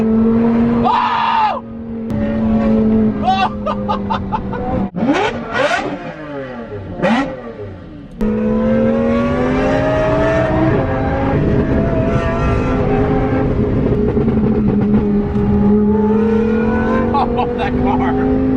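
A Lamborghini Murcielago revving hard and firing exhaust pops and flames on a roadside, with repeated loud engine surges and crackles, close and dominant, with excited voices shouting over it.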